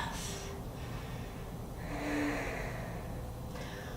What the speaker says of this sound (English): Nice big inhales and exhales.